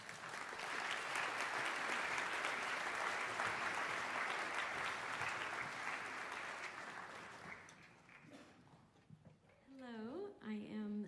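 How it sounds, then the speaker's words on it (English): A school band concert audience claps for about eight seconds, a dense steady roar of applause that thins and fades away before a voice begins speaking over the quieting hall. "Go ahead and give her a round of applause."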